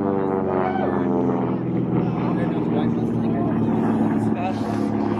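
Racing airplanes scream past low and fast, wingtip to wingtip about fifty feet off the ground at an air race in Las Cruces, New Mexico, a loud continuous engine drone with droning harmonics filling the whole stretch as an announcer talks over it.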